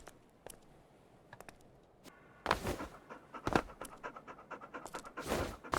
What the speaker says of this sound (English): A dog! I'm taking it. Border Collie.